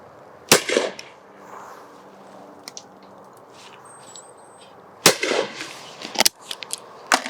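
Shotgun shots fired at clay targets on an outdoor shooting ground, sounding as sharp, loud single reports: one early blast, a pause, then two more in fairly quick succession near the end, with a faint background hum in between.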